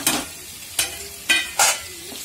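Onions browning in a pan for moong dal amti, four distinct stirring scrapes spaced about half a second apart over a faint sizzle, close and loud, no talking.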